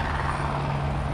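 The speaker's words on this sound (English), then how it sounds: "Here comes the chopper." Helicopter flying over an F1 race weekend in 2022, a steady close rotor and engine drone with a low hum, loud and continuous with no talk.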